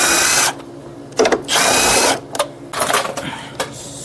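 A power tool spins out 10mm bolts from a 2011-2015 Lincoln MKX headlight, with short whirring bursts separated by pauses, close and fairly loud.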